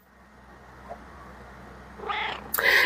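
Kitten giving a couple of short meows near the end, preceded by faint background hiss; the calls are close and moderately loud, with no one talking.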